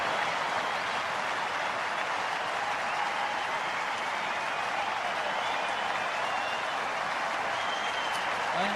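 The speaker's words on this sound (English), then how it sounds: "The crowd loves it." A large cricket crowd at the Oval applauds a Test triple century, a dense, steady roar of clapping and cheering that stays even and unbroken throughout.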